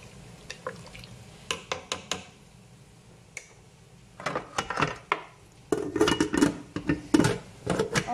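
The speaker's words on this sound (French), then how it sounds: "On mélange un peu." Meat and vegetables stirred in a pot for a tomato sauce dish, with scattered clinks and scrapes of a utensil against the pot and wet, sloshing movement that grows busier and louder toward the end.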